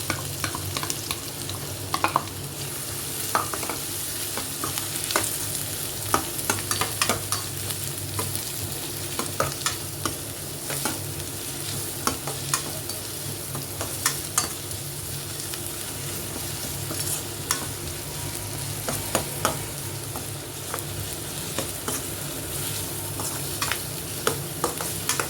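Chopped onions sizzle in a pan with ginger and garlic and are stirred steadily, giving a continuous frying hiss with frequent spoon scrapes close by.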